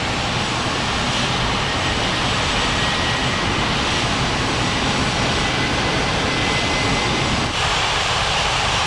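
Eurowings jet airliner taking off from runway 14 right at White Center Airport in an air traffic control video game: a loud, continuous jet-engine roar that holds steady close by throughout.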